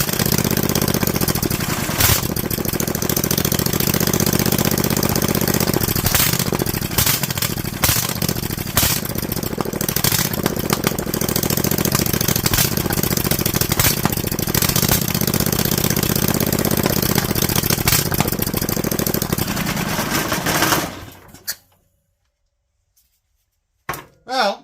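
A Vanguard 18 hp engine runs steadily after its choke is closed, a loud, continuous rough chugging that holds for about twenty seconds before it cuts out abruptly into silence.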